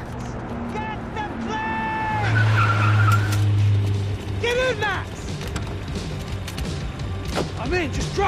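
Tires skid and squeal during a car chase in Max Payne 3, with a heavy engine roar swelling in the middle, sharp tonal screeches, thumps and a voice shouting over the chaotic, loud action.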